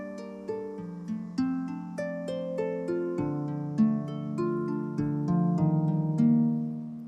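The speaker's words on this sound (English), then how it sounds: "This harp from Contact." A plucked harp from a Kontakt sample library plays a gentle, sustained melodic line of overlapping notes with soft attacks and ringing tails, moderately loud and alone, in an Afrobeats-style production.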